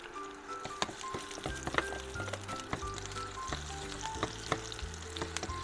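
Sliced onions hit hot cooking oil for a fish soup and fry with a quiet, steady sizzle, broken by sharp clicks and clatter from the pan and utensils and a low hum underneath.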